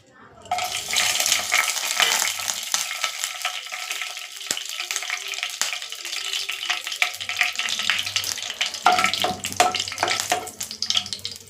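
Cinnamon sticks, cloves and cardamom pods drop into hot oil and fry with a steady broadband crackle and sizzle, close and continuous, with a few brief clinks of utensils and louder bursts near the end.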